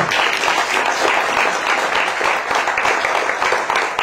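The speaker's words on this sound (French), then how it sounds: "vous pouvez les applaudir" Audience at a mayor's New Year ceremony in France applauds steadily and continuously, a dense wash of many hands clapping close by, with faint voices underneath.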